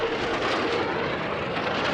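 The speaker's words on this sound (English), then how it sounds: "Now, the Soko is a Yugoslavian-built jet that I refer to as the world's fastest Yugo." A Yugoslavian Soko Galeb G-2A jet roars past at an air race, a loud, sustained broadband jet rush with no voices.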